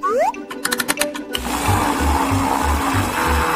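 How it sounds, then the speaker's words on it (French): A kitchen blender whirs steadily as it mixes vanilla ice cream and cheese, with a pulsing low motor drone after a few brief clicks at the start. "je vais mixer le tout"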